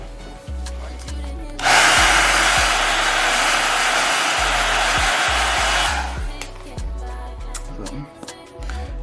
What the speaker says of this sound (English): You really shouldn't be like blow drying it for more than a couple seconds, to be honest.